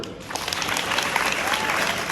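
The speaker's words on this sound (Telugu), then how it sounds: "చాలా చక్కగా పాడారు సార్, పెద్దగా చప్పట్లు" Students at a school event clap loudly after a song, a dense burst of many hands that rises and holds steady for a couple of seconds, fairly close.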